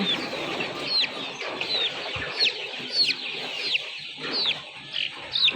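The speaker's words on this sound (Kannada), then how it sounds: "ಸೊ ನೋಡಿ ಇದು ಭಾರಿ ಚೇಷ್ಟೆ ಮಾಡುವಂಥ ಕೋಳಿ ಇದು ನೋಡಿ" Native country chickens on a rural farm give repeated clucks and short squawks at irregular intervals, close and fairly clear over a low background hum, with occasional scuffling.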